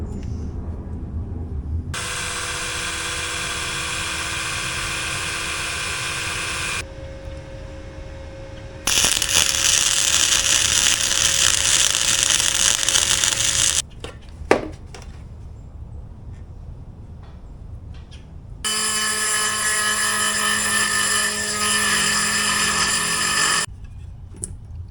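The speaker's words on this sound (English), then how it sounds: "Let's drill it." A power drill runs in three long, steady bursts, outdoors in the rain, while restoring a 1970 Suzuki TC 120 Trail Cat motorcycle, each a loud whining drone with brief quiet gaps and a sharp knock between them.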